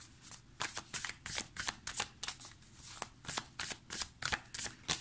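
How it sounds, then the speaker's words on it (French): Tarot cards being shuffled by hand, a steady run of quick crisp riffling bursts repeating evenly throughout, close and clear with no talking. "On va prendre 3 cartes."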